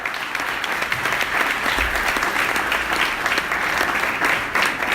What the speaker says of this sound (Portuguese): Aplauda o Senhor por isso, porque Ele é libertador.